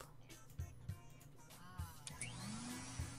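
Vacuuming in the hotel management game Jane's Hotel Mania: a whirring vacuum drone rises and sweeps, with light clicks and short chimes from the game interface on top.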